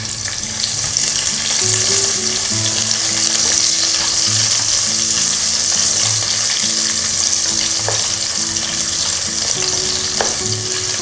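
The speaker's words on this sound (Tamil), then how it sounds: "அது நல்லா ஹீட் ஆகிடுச்சு. வெங்காயத்தை இதில் போட்டுடுறேன்." Onions sizzle loudly in hot oil for vegetable biryani, a dense, steady frying crackle up close, broken by periodic scrapes and clinks of a spoon stirring the pan.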